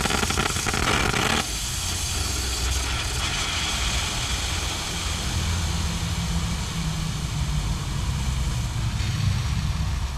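An aerosol can of carbon choke and parts cleaner spraying in a steady loud hiss that sputters off after about a second, followed by a long stretch of broadband noise in a garage beside a 1996 Toyota Camry.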